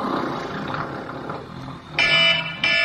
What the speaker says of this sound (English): That's why I have an alarm clock.